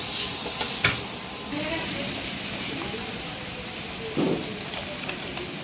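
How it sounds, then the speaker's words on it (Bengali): Mango pieces fry with sugar in a pan while being stirred, giving a steady close sizzle and hiss with occasional scraping of the spoon. A person talks over the cooking. "এবার একটু চিনি দিয়ে নাড়িয়ে নেব একদম পুরো শুকনো শুকনো হবে একদম ভাজা হবে"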